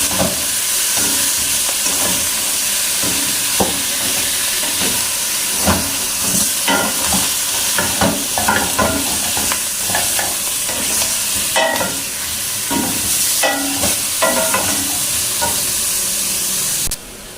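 Garlic and chicken fry loudly in desi ghee for a yakhni, with a continuous close sizzle and hiss broken by frequent scraping stirs and utensil knocks.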